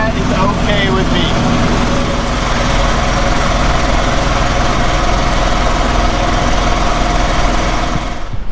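A 50-year-old dump truck's engine drones steadily at cruising speed, a loud continuous low rumble with road and cab vibration throughout, no voices.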